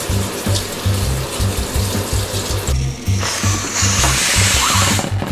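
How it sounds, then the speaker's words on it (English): Water runs steadily from a tap into a water balloon, with a low rhythmic pumping hum underneath, loud and close, with a brief break partway through. "So you want to fill them both up with water."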